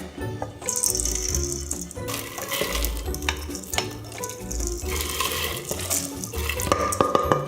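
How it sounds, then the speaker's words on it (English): Dry lentils rattle and patter into a pot of about six cups of bubbling water, with clattering, splashing and stirring sounds close by and no talking. "So I'm gonna go ahead and add my lentils to some already boiling water."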